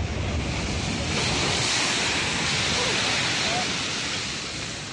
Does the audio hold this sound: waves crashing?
yes